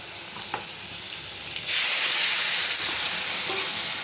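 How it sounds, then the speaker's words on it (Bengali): Mixed vegetables dropped into a hot wok of oil with panch phoron, giving a sudden burst of loud, steady sizzling that continues after a quieter stretch, with no talk. "কড়াইয়ের পাঁচফোড়নটা গরম হয়ে গেছে, এখন আমি এই সবজিগুলো দিয়ে দেবো।"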